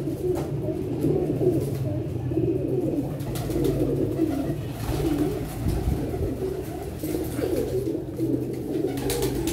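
Teddy pigeons coo steadily in low, throaty rolls, several birds overlapping in a continuous murmur close by.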